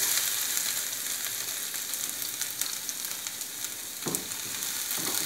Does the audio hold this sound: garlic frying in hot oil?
yes